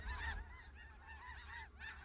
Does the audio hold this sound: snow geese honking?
yes